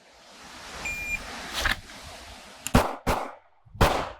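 A pistol fires a two-to-the-body, one-to-the-head drill at an outdoor range: one shot, then a quick group of three loud, close cracks with brief gaps between them.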